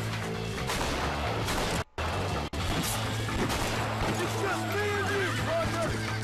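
Horse neighing in the Western video game Red Dead Redemption, whinnies over hoof clip-clop and gunfire in a busy, loud game mix with people talking throughout.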